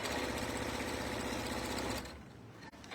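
A serger sewing machine stitches in a fast, steady mechanical whir for about two seconds, then stops abruptly, leaving faint room noise.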